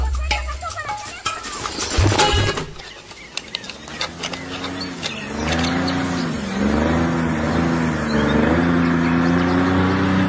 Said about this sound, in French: un bruit de moteur à midi, descends